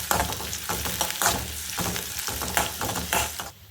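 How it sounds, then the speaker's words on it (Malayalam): Dried chillies and curry leaves sizzle in hot oil as a tempering for Kerala pumpkin pachadi, a loud, dense crackling fry broken by stirring scrapes before it quickly drops away at the end. "ഇതിലേക്ക് കുറച്ച് കറിവേപ്പില ചേർത്ത് കൊടുക്കാം"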